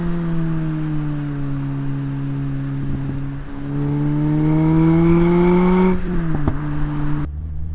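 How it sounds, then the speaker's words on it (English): A 1.8-liter Lotus Elise engine with a stage 2 Lotus exhaust drones loudly and steadily, its tone rising gradually as the revs climb, then dropping sharply before settling near idle; no voices. "this car has a stage 2, that's what they call it, Lotus exhaust, so it's certainly louder than a standard one"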